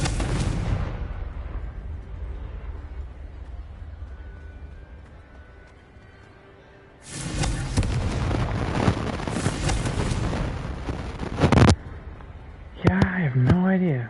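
Confringo fire-spell blasts in the game Hogwarts Legacy go off as a loud burst of explosive roar for several seconds, ending in a sharp crack, followed by a voice and other game sounds.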